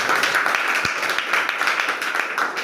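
An audience claps at a Hindi-language business plan seminar, a steady broadband patter of many hands lasting throughout, moderately loud and fairly close, with no talk over it.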